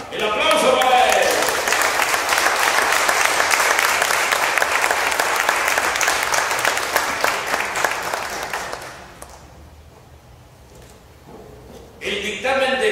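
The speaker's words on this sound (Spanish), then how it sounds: "Ezequiel Gómez Leiva, el aplauso para él" A crowd applauds journalist Ezequiel Gómez Leiva, first-place winner at a state journalism awards ceremony in Oaxaca. Loud, steady clapping lasts about nine seconds, fades to quiet, and a voice returns at the end.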